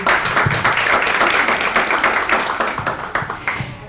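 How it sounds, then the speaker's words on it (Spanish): An audience at a panel talk applauds a speaker, close crisp claps forming a loud dense burst that gradually thins and fades toward the end. "estamos con Mario Nosotti, a quien también le damos un fuerte aplauso"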